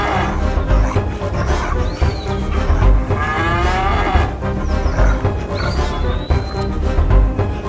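Cows moo loudly and repeatedly in a cartoon story for children, their deep drawn-out calls overlapping close by with no talk.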